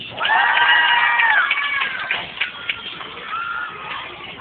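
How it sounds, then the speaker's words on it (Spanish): An audience at a children's talent show finals in Denver applauds and cheers for the young finalists, with shouting voices and clapping rising loudly, then settling into scattered cheers. "¡Aplausos para la nena!"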